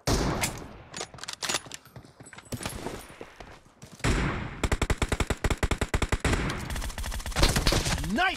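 Gunfire in PUBG Mobile team deathmatch: scattered shots, then rapid automatic bursts with rhythmic repeated cracks, fairly loud, with a brief voice at one point.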